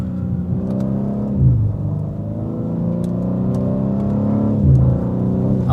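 A BMW M car engine pulls on very light throttle, a smooth mid-pitched hum that climbs gently in pitch, dips briefly and rises again, heard from inside the car with no voices.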